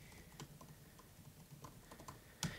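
Quiet, close typing on a computer keyboard while writing bullet-list notes in Markdown, a soft irregular run of key clicks ending in a sharper keystroke.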